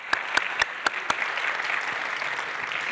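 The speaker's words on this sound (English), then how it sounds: "please have a thunderous round of applause for our speakers here" Audience applause for panel speakers at a tech conference session at Harvard, a broad steady wash of clapping with a few sharp louder claps early, sustained evenly throughout.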